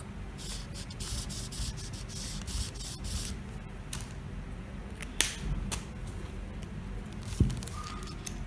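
Fabric for the back yoke of a 4-year-old boy's collared shirt is cut, producing a steady close rasping and rubbing of blade on cloth, broken by a couple of sharp clicks, with no speech.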